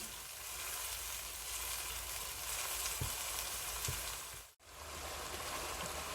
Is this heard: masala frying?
yes